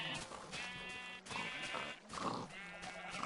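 Sheep bleating in a farm sheep pen, a few loud, wavering bleats in steady succession over a noisy, busy pen background.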